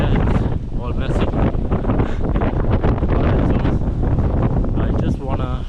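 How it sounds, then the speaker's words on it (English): Strong outdoor wind buffets the microphone in a constant loud roar, with gusty low rumble throughout, near a harbor in Canada during a wind storm; a voice can be heard faintly under the noise. "I don't know if you guys can hear me because there's a lot of wind"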